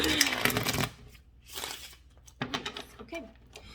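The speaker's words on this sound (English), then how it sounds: "I shuffled a little bit before, but let's go ahead and do a little bit more." A deck of tarot cards gets shuffled in short riffling and sliding bursts, close and crisp, separated by quieter pauses, with a faint voice in the background.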